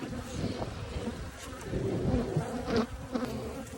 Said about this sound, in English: I'd say the bees are starting to get a little defensive